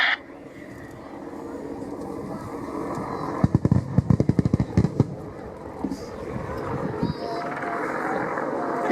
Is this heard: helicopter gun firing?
yes